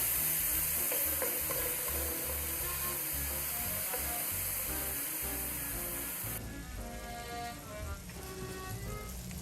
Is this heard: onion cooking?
yes